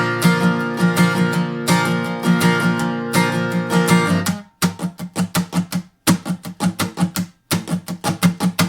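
Acoustic guitar strumming chords from a song, first in a steady pattern and then switching to fast double-time strums with brief gaps, as in a last chorus. Played alone, clear and close.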